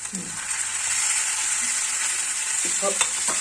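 Potatoes and tomato fry in a pan for potato curry, with an even, steady sizzle, a few soft stirs and clinks of a utensil near the end, close up and without speech.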